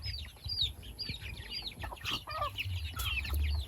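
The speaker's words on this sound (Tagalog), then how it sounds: "Hubbard chicken, broiler din yan, broiler." Hubbard broiler chickens cluck and chatter in a steady overlapping flock, with higher bird calls and a soft low background hum, fairly close and continuous.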